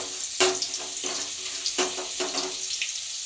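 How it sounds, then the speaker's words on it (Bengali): Crushed garlic hits hot white oil in a wok and sizzles steadily, with a few sharper spits and crackles spaced through the frying. "এই যে তেলটা একটু গরম হয়ে গেছে, দেবো এর মধ্যে হচ্ছে রসুন কুচি, মানে কুচি না, অবশ্যই থেতো করা"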